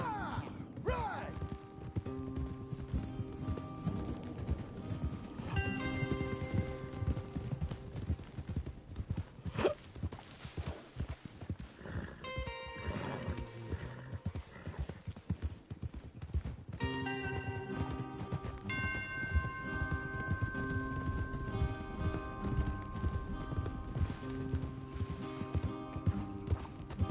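Horses in the Red Dead Redemption 2 video game clop along at a steady rhythmic pace, hooves beating continuously with tack and gear rattling, over game music, with occasional voices low in the mix.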